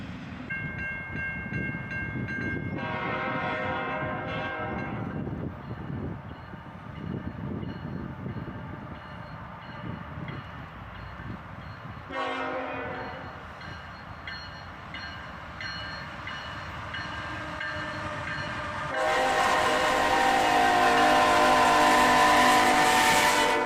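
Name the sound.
CSX auto-rack freight train passing, ET44AH locomotive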